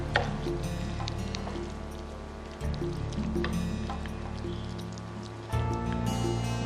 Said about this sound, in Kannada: ಸ್ವಲ್ಪ ನೀರು ಹಾಕೋತೀನಿ.